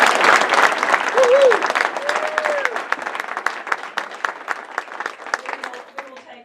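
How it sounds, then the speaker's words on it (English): Audience applause for political candidates at a Republican women's governor debate, a dense burst of clapping that starts loud and gradually thins and fades over several seconds, with a brief whoop or voice rising above it. "can we give these candidates a round of applause?"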